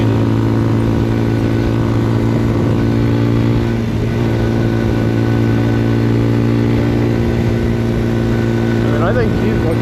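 A Papio SS mini motorcycle is ridden at a steady pace, its small engine giving a constant droning hum with a faint rise in pitch near the end, mixed with wind rush throughout.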